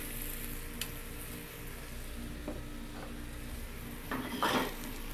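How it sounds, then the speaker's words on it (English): Sliced apple frying gently in a little butter in a saute pan gives a quiet, steady hiss, and a short clatter of utensils against the pan rises near the end. "I'm going to put that into a saute pan with a little bit of butter"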